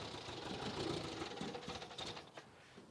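A 1967 MG Midget engine runs at high revs, a steady, dense mechanical drone with a faint knocking texture, heard close and fairly quiet with no talking over it.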